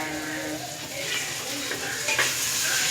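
Onions and green chilies frying in a pan, a continuous loud sizzle with scraping stirs throughout, close and steady.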